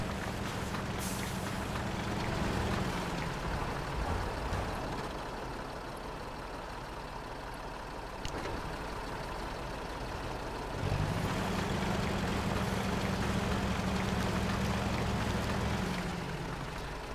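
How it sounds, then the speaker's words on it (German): A truck engine in the MudRunner off-road driving game revs up twice, a deep droning roar swelling for several seconds, easing to a lower idle, then rising again steady and loud. "Ah, der LKW gibt sogar Gas."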